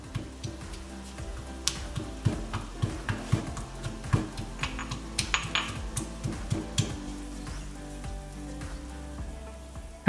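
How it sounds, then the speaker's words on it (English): Onions sizzle softly in a pan, a thin crackle beneath a run of light rhythmic taps and clicks spaced about every half second, close and fairly quiet, with no voices. "While the onions are doing their thing in the pan"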